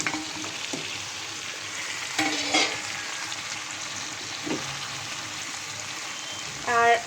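Pieces of fried chicken sizzle in a spicy masala and are stirred, with soft continuous frying hiss and a few scraping stir sounds, including a louder clatter near the end.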